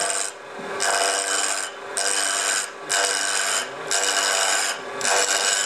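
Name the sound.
wood lathe turning a cigar ash tray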